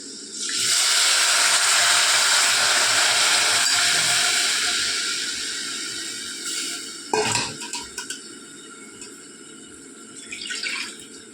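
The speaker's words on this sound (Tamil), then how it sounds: "இந்த புளியை கரைச்சி விடணும்" Tamarind water is poured into hot garlic kuzhambu masala cooked with sambar powder. A loud rushing hiss of liquid and steam hits at once and fades gradually, followed by a few clanks and scrapes from the pan.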